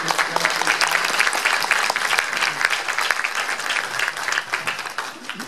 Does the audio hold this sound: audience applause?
yes